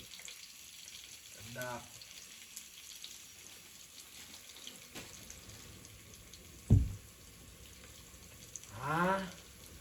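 Tomato-flavour potato chips, like Lay's, tossed into a hot spice tempering fry with a steady close sizzle, broken by a sharp clatter and a couple of brief voices.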